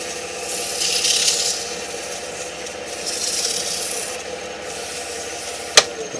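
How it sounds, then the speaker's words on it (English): Fine 600 grit sandpaper rubs over a wooden pizza cutter handle in slow, soft back-and-forth strokes at close range, ending with a sharp little knock. "Then I'll go over that with the 600 grit sandpaper a little bit."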